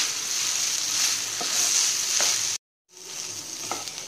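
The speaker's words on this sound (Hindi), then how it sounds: "गैस की फ्लेम हाई करके इसे हम फ्राई मिक्स कर लेंगे" Crispy sweet corn stir-fried in sauce over a high gas flame, a bright steady sizzle with scattered spatula scrapes, briefly cut to silence partway through before the frying resumes, no speech.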